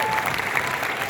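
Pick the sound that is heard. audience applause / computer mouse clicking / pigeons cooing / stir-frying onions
audience applause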